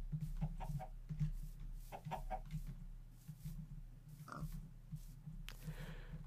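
Chickens clucking in the Minecraft video game, a run of short, faint, repeated clucks alone against quiet game ambience.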